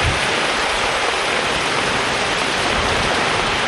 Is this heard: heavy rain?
yes